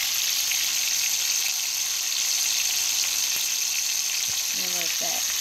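Steak sears in a hot pot with oil and butter, giving a loud, steady sizzle and crackle that runs unbroken throughout, with a couple of faint clinks near the end.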